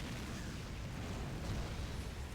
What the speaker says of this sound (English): Howitzer position firing now.